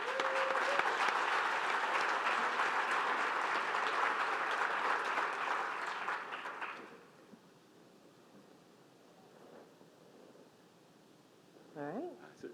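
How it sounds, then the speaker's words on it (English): Loud audience applause at a Making Strides of Long Island kickoff event, a dense clapping wash for about seven seconds before fading to quiet room tone with a brief sound near the end. "One more time, round of applause for yourselves"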